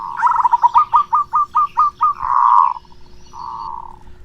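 A spotted dove perched on a telephone wire gives a fast rising series of about a dozen clipped notes, then two long, smooth coos, close and clear with no talk.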